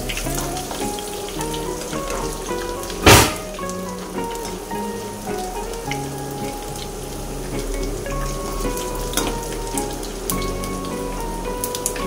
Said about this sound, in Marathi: हे जे लसूण ठेचलेले आहेत ते टाकूया. व्यवस्थित मिक्स करायचं.